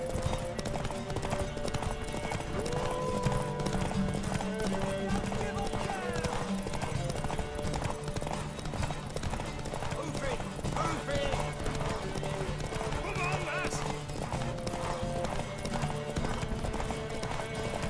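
Horse hooves clip-clop steadily at a run in The Witcher 3: Wild Hunt, over a busy, dense background of music and game sounds, with voices speaking at times.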